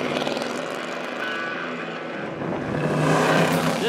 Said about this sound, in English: this one was upgraded to a small block 350 to make it go